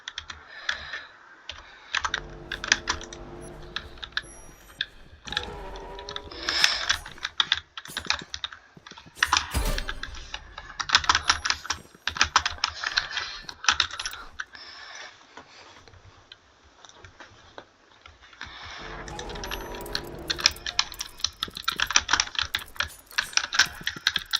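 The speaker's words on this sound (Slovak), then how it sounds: "napíšem knife" A computer keyboard clatters under steady typing, with fast runs of close key taps, brief pauses, and faint game sounds underneath.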